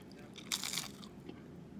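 A crunchy bite into twice-fried plantain chips served alongside jerk chicken, one sharp crisp crunch followed by a couple of faint chewing crackles, close up and fairly quiet.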